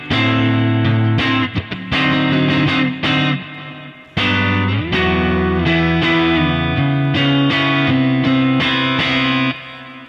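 Electric guitar through a Kemper profile of a 1968 Twin Reverb with the bright switch on: loud, ringing clean-toned chords and arpeggios strummed in phrases, with crisp attacks and long sustain.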